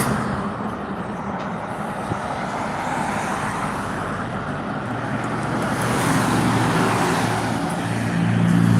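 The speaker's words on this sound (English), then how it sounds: "a lot of work trucks out here today" Work trucks and other road traffic rumble past steadily on a nearby roadway, a continuous broad roar that swells louder toward the end as a heavier vehicle draws near.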